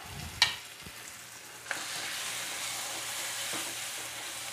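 Shrimp curry ingredients sauté in a hot pan, a steady close sizzle and frying hiss broken by a few clinks and scrapes of stirring.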